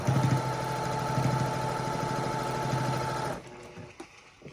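A sewing machine runs steadily and loud with a fast rhythmic whir for about three seconds, then stops, leaving a few faint clicks and handling noises.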